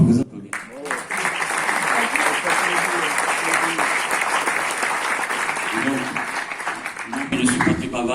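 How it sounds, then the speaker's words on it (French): Audience applause for the mayors at the opening day of a film festival, a dense, steady roar of clapping filling the room for several seconds, with a voice speaking briefly near the start and again toward the end. "On peut vous applaudir."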